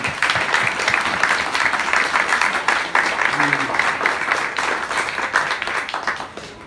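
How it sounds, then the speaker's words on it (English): Applause from the crowd at a community park meeting in Hā'ena, a steady, fairly loud clatter of clapping that lasts throughout, with some voices mixed in underneath. "We give them a round of applause."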